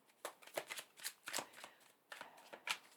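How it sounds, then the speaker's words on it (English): Tarot cards being shuffled close up, a quick irregular run of crisp riffling bursts and soft slaps with short pauses between them, no talking over it. "I hope it's not too loud when I'm shuffling"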